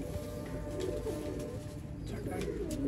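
Black-mouthed Sialkoti pigeons coo softly amid a busy background of rustling, faint voices and low ambient noise.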